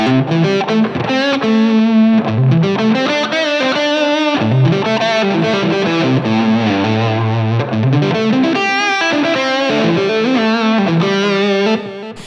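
Distorted electric guitar plays flowing pentatonic licks, notes bending and sliding in a steady run of phrases, loud and continuous with effects.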